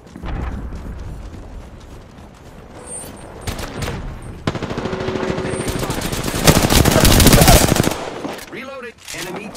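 Rapid automatic gunfire from the Apex Legends video game crackles in loud sustained bursts, building into a dense barrage with a mechanical clatter near the end.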